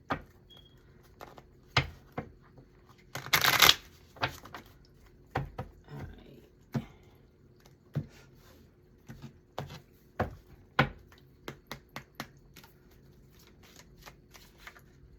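Tarot cards are shuffled for a reading in close, crisp bursts, with a dense riffle in the middle and scattered sharp card snaps and taps around it, quiet between strokes.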